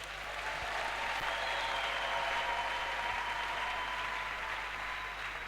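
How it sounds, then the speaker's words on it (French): Church congregation applauding steadily throughout a worship service, a dense, continuous wash of clapping from a large crowd that holds at an even level from start to finish. "Acclame le Seigneur Jésus"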